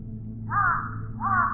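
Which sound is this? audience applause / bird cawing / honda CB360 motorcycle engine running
bird cawing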